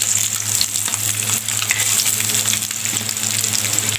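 Eggs frying in oil in a pan, a loud dense continuous sizzle with crackling spatter, heard close and steady throughout with no talking.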